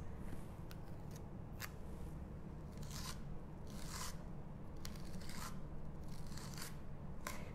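Tjhoko paint being scooped and spread across a stencil on a surface, giving soft close scraping swipes in an irregular series of short strokes, quiet and with no talking.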